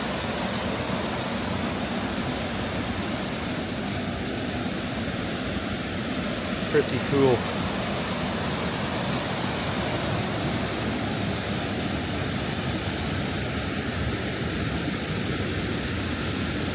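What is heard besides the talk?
river water raging over rocks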